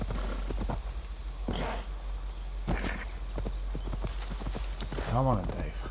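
Hooves of a horse in Assassin's Creed Valhalla clop in a loose walking rhythm, a few distinct steps close by, ending with a brief neigh over a steady low background hum.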